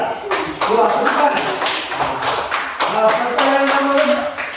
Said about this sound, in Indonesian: Tepuk tangan kelompok 3. Tepuk tangan.